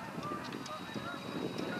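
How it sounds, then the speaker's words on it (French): Many Canada geese honk over each other, a spring flock calling at a moderate distance in overlapping, irregular bursts. "Là, c'est les outardes."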